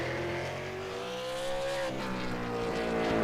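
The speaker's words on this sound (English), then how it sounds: "just so I can hear some cars and have some sound" Short-track race car engines whine and rev nearby, their pitch sliding as cars pass, with a louder roar building toward the end.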